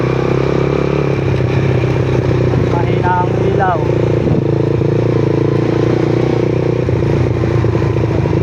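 A motorcycle rattles and clatters over a deeply potholed road, its steady engine rumble loud and close throughout, with a brief rattling burst midway and a voice speaking over it.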